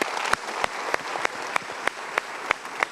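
Steady applause from a television studio audience, continuous clapping with a few sharper claps standing out at regular intervals, fairly loud and close.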